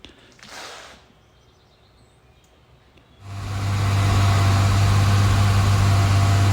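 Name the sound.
BMW E30 325iS engine idling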